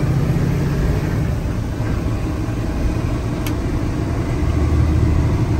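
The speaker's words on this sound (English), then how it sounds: "Shifts through the gears here." A 2015 Freightliner truck with a Cummins engine rolls down the road, giving a loud, constant low engine rumble and road noise heard from inside the cab, with no clear break where a gear change happens.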